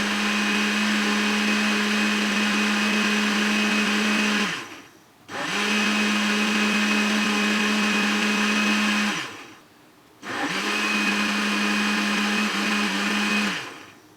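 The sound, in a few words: blender blending fruit sharbat with sugar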